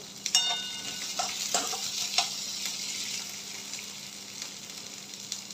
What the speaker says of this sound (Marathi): अगदी 2 ते 3 मिनिटं हाय फ्लेमवर परतून घेऊया तेलात